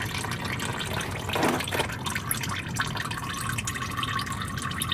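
Engine oil pours in a steady stream from the oil pan of a V10 Ford Excursion into a catch container, a continuous close liquid splatter and gurgle with a brief heavier gush early on, and no talking.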